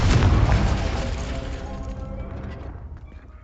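A Confringo spell explodes in Hogwarts Legacy, producing a loud, booming blast with a long rumbling tail that fades away over a few seconds.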